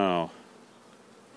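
Honeybees around an opened backyard hive with a frame pulled out give a brief, close buzzing tone that cuts off sharply, leaving a faint, low hum of activity.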